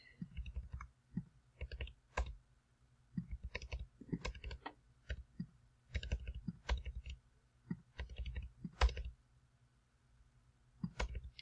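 Mouse clicks and delete-key presses at a computer while shapes are edited in Illustrator: sharp, dry clicks close by, arriving in small clusters with short pauses throughout.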